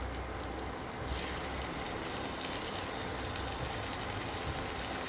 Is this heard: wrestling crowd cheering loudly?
no